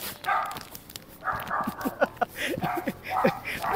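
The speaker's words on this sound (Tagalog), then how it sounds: "May aso kasi." A dog barks repeatedly behind a neighbouring house's gate, a run of quick yips and barks close together, moderately loud and nearby.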